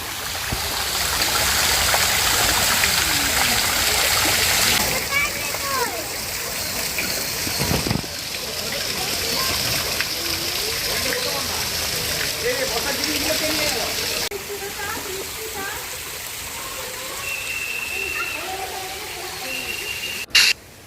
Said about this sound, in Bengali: আশ্রমে এরকম জল পড়ছে চারিদিক থেকে